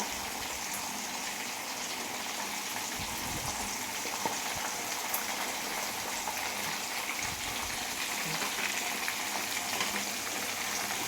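A whole tandoori chicken cooking in a pan gives a steady, moderate sizzle and hiss with occasional soft pops and crackles, continuous and without talk.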